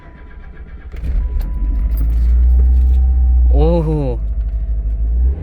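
A vehicle engine cranks and fires after sitting in hibernation storage, catching with a loud rising whine and settling into a steady idle rumble, close by, with a keychain jangle and a brief spoken exclamation.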